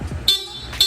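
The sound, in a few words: stock horn of Honda ADV160 scooter honking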